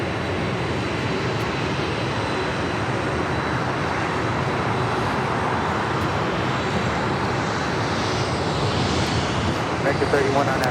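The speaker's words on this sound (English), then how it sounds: "It's a 17-year-old 747-400 freighter" A 17-year-old Boeing 747-400 freighter arriving from Anchorage at LAX, its broadband engine roar steady and loud through the whole stretch, growing slightly toward the end.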